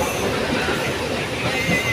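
Loud rumbling of a Mumbai local train starting to move, with steady rolling noise and faint wheel squeal, heard from inside a carriage.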